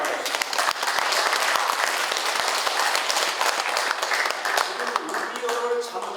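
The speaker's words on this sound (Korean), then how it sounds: "박수 한번 보내주십시오" An indoor audience applauds with dense, steady clapping that holds for several seconds and then thins out toward the end.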